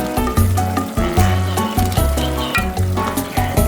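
Coconut hits a hot frying pan while a Sri Lankan crab curry is cooked, giving a steady close sizzle with repeated scraping, stirring knocks in a regular rhythm.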